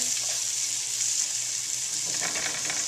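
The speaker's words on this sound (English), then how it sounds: "Sauteing corn and our Italian bacon." Corn and Italian bacon sauté in a pan, giving a steady, bright sizzling hiss close up that holds evenly throughout, with a few faint crackles toward the end.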